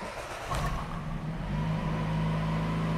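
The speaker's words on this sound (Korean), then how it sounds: "그러면 이제 시동을 걸면서 스타트" A 2017 Jeep Renegade 2.4 Longitude gasoline compact SUV with automatic transmission starts up: a brief cranking burst, then the engine catches and settles into a steady, fairly loud idle hum nearby.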